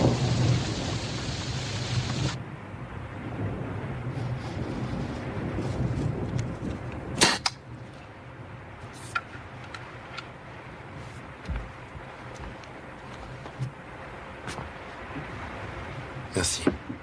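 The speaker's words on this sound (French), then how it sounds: "si seulement cette pluie pouvait s'arrêter" Heavy rain falls with thunder, a loud rumbling roll at the start giving way to a steady hiss of rainfall, with sharp cracks and scattered drips near and far.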